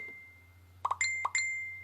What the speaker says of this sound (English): Now imagine every time you turn your phone on, that's what you got to go through. Because this is what my phone do.